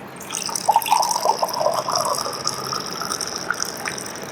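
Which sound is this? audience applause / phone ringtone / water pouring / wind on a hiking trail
water pouring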